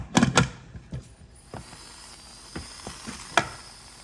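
A pressure cooker lid is closed while lentil daal cooks, giving a quick cluster of metallic clicks and clatter, then a few sparse clicks and knocks at close range in an otherwise quiet kitchen.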